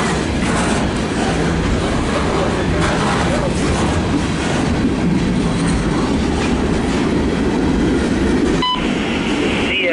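A CSX mixed freight train rolls past close by, a continuous loud rumble of wheels clicking over rail joints with brief metallic squeals near the end.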